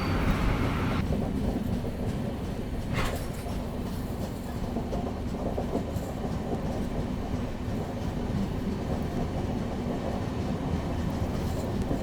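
The Sanghamitra Express rolls along the rails, a continuous low rumble and rattle of wagons with steady clickety-clack, heard from inside the moving train.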